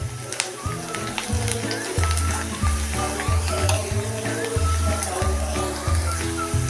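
Asafoetida and turmeric sizzle loudly in hot oil, a constant bright frying hiss under a rhythmic, pulsing low tone that keeps repeating, with a voice talking quietly beneath it.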